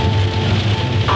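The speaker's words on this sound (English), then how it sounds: "It's raining, and it's pretty bad." Steady heavy rain in bad weather, a dense continuous hiss with a low rumble beneath it, likely heard from inside a car while driving, loud and close with no talking.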